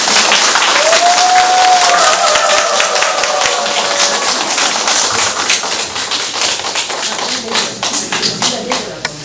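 Audience applause fills a Korean bamboo crafts talk on Damyang bamboo culture at a bamboo workers camp, a loud sustained clapping crowd with a few voices and a whistle-like tone near the start.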